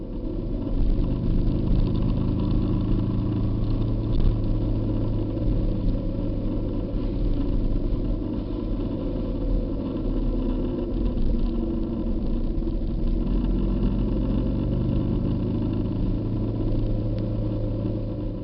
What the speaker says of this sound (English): there's nothing like the sound of a roaring, howling engine of a Harley Davidson